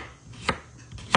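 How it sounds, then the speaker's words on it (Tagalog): A knife slices through cucumber on a cutting board for calamansi and cucumber juice, with two crisp, close chops separated by a short pause and no talking. "Ito po, nag-slice lang po ako ng pipino"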